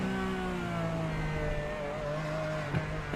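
A race car engine drones steadily in a racing video game at Monza, a sustained mechanical tone with shifting pitch and a brief bump near the end, heard alone without commentary.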